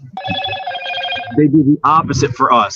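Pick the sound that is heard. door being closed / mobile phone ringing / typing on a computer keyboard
mobile phone ringing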